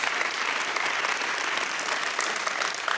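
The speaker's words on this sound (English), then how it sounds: "Yes, please applaud whenever you like." Audience applause fills a convention hall at an Internet Governance Forum session, a steady dense clatter of many hands clapping throughout, close and even with no pauses.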